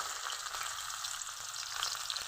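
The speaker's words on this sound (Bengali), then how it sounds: "কড়াইয়ে তেল গরম করে নিয়েছি, তেলের মধ্যে দিব পেঁয়াজ কুচি" Chopped onion fries in hot oil in a wok, a soft, continuous crackling sizzle with fine spitting pops, close but fairly quiet, and no talking over it.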